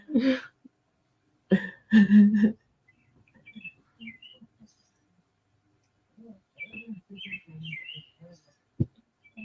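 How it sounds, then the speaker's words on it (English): Faint, scattered bird chirps come from a distance, with a few louder thumps and clicks nearby and stretches of quiet between. "Do I hear birds?"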